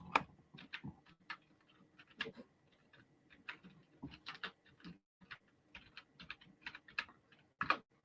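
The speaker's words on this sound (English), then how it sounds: "I'll just type it in." Fingers tapping a computer keyboard in irregular bursts of quick clicks with short pauses between, close but quiet, with no speech over it.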